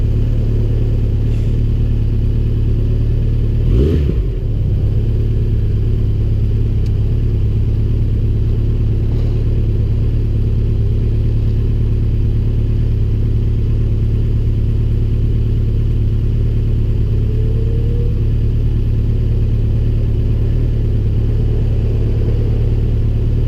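A 2013 Honda CB1100 motorcycle held in third gear on a road ride, its engine droning loud and steady for over twenty seconds, with wind rumble and a brief burst of noise early on, no voices.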